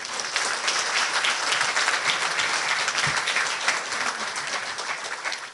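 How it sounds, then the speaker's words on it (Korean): A crowd at a Korean academic award ceremony gives welcoming applause as the foundation chairman comes forward, with sustained, even clapping from many hands throughout, moderately distant and without speech. "여러분들 환영의 박수 부탁드립니다."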